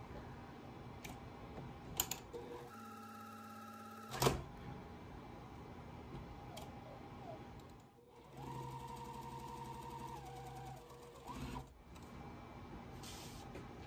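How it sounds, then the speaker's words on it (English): A sewing machine stitches quilt fabric half square triangles, sewing a quarter inch seam in two long steady runs separated by pauses and small clicks, close and even. "I'll sew a 1/4 inch away from that line on each side"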